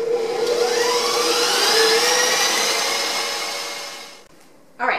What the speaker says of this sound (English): So we're going to mix this at high speed until it's all blended.